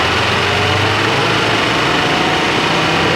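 Car engine revving with its air conditioning compressor engaged, a loud, close, steady broadband roar and whine that holds continuously with no talk.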